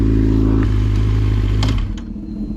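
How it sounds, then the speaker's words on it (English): A motorcycle engine runs loud and close with a steady, rumbling idle and a little clatter, then drops in level as the rider gets ready to pull away. "y'all can kind of hear the bike, see the bike"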